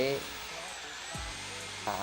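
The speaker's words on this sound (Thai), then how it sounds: "สว่านปั่นปูนนะครับ เพื่อจะให้ปูนเนี่ยนะครับ ละเอียด เป็นเนื้อเดียวกันนะครับ" An electric drill whirs steadily as it stirs Insee No. 13 plaster mortar for lightweight concrete blocks, a continuous grinding hum with someone talking over it.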